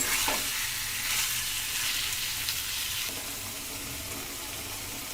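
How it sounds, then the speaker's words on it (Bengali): Chicken curry meat frying with spices in a pan, a dense, hissing sizzle throughout with a soft stirring scrape, close and steady, the sizzle dropping slightly partway through. "এবারে মাংসটাকে 5 থেকে 10 মিনিট ভালো করে কষিয়ে নেব।"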